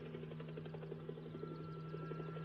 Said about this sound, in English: Doesn't sound like a plane.